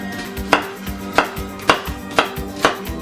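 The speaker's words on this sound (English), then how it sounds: "I'm going to go in and make pre-slices to the onion" A knife makes pre-slices through an onion on a cutting board for minestrone: five crisp, evenly spaced chops about every half second, close and clear with no talking.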